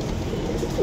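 A jodiya pigeon on a rooftop in Jhelum coos softly in a low, throaty call over a steady outdoor background, brief and fairly faint.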